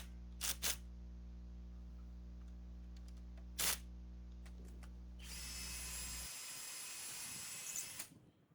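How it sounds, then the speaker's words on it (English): A power drill drives screws into the wooden boards of a small DIY greenhouse frame. A steady motor whine runs for about six seconds with a few sharp clicks, then a brief higher burst follows before it stops. "and then drill two screws into it."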